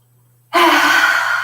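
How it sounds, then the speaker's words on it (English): A deep breath in a yoga session, a single long, loud, close breath that starts abruptly and holds steady for about a second, with no talk. "we're going to take a big, deep inhale through the nose And then we are going to exhale from the mouth"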